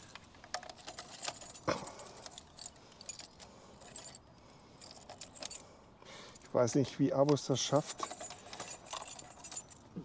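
Keys jangle in the battery lock of an Abus e-bike lock while the battery cover is taken off, a burst of bright metallic rattling mid-clip under steady close talking and handling noise.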